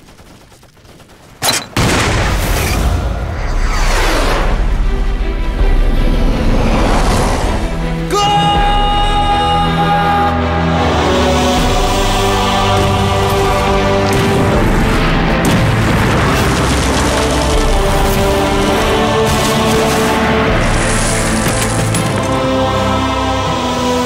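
Artillery cannon fire in a wartime battle scene: a sudden loud blast, then sustained, dense rumbling booms and crashing debris mixed with dramatic music, heavy and continuous throughout.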